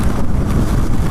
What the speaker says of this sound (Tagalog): siyempre pag tinamaan ka ng hangin dun